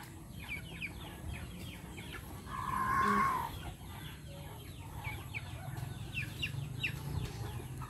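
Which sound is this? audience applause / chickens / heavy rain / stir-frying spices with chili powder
chickens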